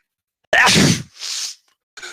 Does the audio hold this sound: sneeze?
yes